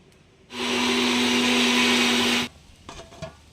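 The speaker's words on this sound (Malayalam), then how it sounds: "കുറച്ച് തേങ്ങയും ഒരു കുറച്ച് സവാളയും കൂടെ എടുത്ത് വെച്ചിട്ടുണ്ട് ഇതും കൂടെ നന്നായിട്ടൊന്ന് അരച്ചെടുത്തിട്ട് വരാം നല്ല പേസ്റ്റ് പോലെ ഒന്ന് അരച്ചെടുക്കണം" A mixer grinder grinds coconut and onion into a paste in one loud, steady burst of whirring motor and blade noise about two seconds long, stopping abruptly, followed by faint handling clatter.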